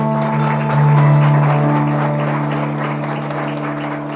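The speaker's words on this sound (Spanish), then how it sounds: "denle un aplauso a Papá Dios" A church congregation applauds together in a sustained, loud burst of clapping, with a steady sustained tone running underneath throughout.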